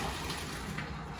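Hot water and cooked pasta poured into a colander in a kitchen, a brief continuous rushing splash of liquid, close and steady.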